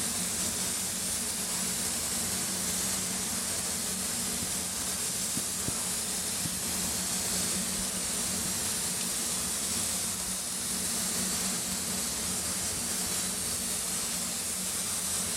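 A paint spray gun at 2 bar of pressure lays down a last coat, held close and moved slowly, giving a steady, continuous hiss with a faint low hum beneath it and no talk.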